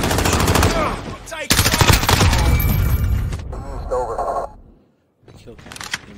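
Rapid automatic gunfire bursts in a Modern Warfare team deathmatch, loud and close in dense rattling volleys with short gaps and a brief silence, mixed with game radio chatter and a player talking.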